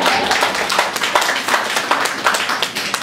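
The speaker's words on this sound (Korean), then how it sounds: "이럴 때 박수 치는 거예요." A congregation claps together during a church service at a Korean church in New Jersey, with dense, steady hand claps at close range for about three seconds and no voices over them.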